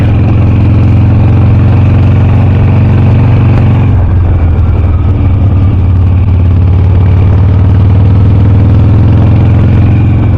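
A 2006 Harley-Davidson Sportster motorcycle engine runs loud and close while being ridden, a steady low rumble that shifts in tone around four seconds in, as if easing off or changing gear, then settles back into a continuous throb.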